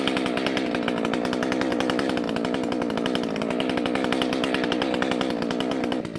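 A 620 chainsaw with a freshly sharpened chain cuts wood, engine roaring steadily and close with a rapid pulsing chatter throughout, no talk.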